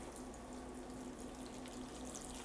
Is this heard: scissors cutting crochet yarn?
no